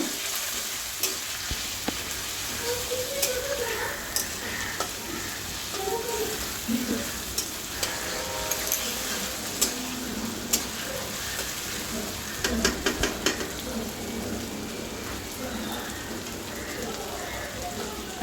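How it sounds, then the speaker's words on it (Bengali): Spices, grated ginger and tomato frying in oil for a boal fish curry, a steady soft sizzle with occasional stirring clicks and faint background voices. "এখন সব মশলাগুলো ভালো করে ভেজে নেব"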